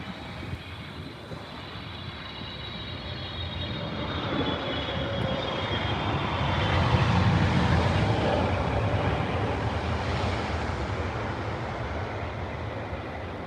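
A Boeing 777 landing at Heathrow Airport, its engines spooling down to idle on touchdown: a steady broad jet roar that swells toward the middle and holds loud, with no talk over it.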